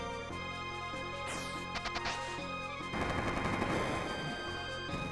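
Line Bomb attack in the game Chrono Trigger: a rapid burst of game explosions and blasts over background music, turning into a dense, loud crackling barrage for the final couple of seconds.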